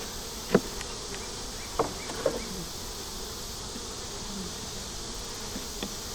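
A faint, steady drone of honey bees buzzing during a hive inspection, low and continuous, with a few soft clicks and knocks over it.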